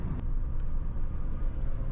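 A car loaded with household belongings drives along the road, a continuous low engine and tyre rumble heard from inside, with a couple of faint brief clicks and no talking.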